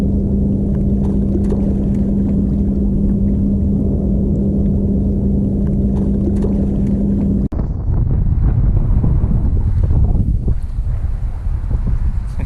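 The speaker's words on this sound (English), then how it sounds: "this is what 10 to 15 miles per hour looks like on wind" Wind of 10 to 15 mph buffets a microphone on a fishing boat, a loud rumbling roar with a steady engine-like hum for the first seven seconds, then a dip and gustier, rougher noise afterward, with no voices.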